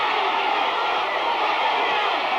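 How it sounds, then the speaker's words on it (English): A large outdoor arena crowd at a boxing match in the Nevada desert roars and cheers steadily, a dense continuous wall of voices at a distance. "The entire arena cheering these two on now under this blazing sun in the Nevada desert."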